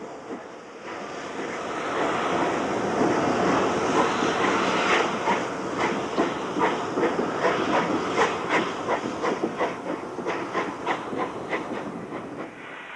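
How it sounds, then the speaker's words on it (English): Steam locomotive 34022 Exmoor pulls away with a passenger train, a steady roar of steam and hiss building into a rhythm of clanking wheel and rail beats that grows stronger over several seconds, with no voices. "34022 Exmoor departs with the 11:16 a.m. train to Oxford"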